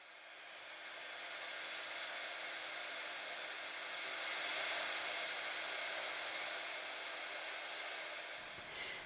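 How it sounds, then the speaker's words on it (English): A heat gun blowing hot air over a stamped paper card, a steady loud whooshing roar held for several seconds that swells slightly midway and cuts off at the end. "Make sure that your heat gun's very hot before you start to heat the card."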